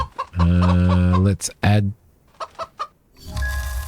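Chickens in the farming game Rancher A New Life give a drawn-out, loud cackling call followed by several short clucks, with someone briefly talking between them.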